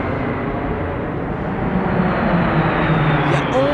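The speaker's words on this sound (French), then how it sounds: "Ça, ce sont des Venom, première vague." De Havilland Venom jet aircraft flying over as the first wave of an air display, a loud sustained engine roar that swells slightly toward the end.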